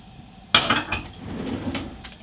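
Roasted cauliflower with feta and almonds is stirred in a dish: a sharp utensil clatter opens, followed by softer scraping and light clinks, close by.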